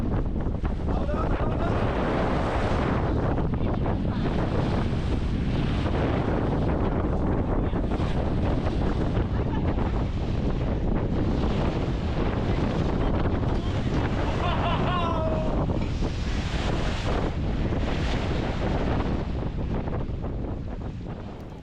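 Strong wind and rough, choppy sea slap and roar steadily around a sailboat crossing the Gulf of Tehuantepec in stormy weather, a loud continuous wash of gusts and waves with no break.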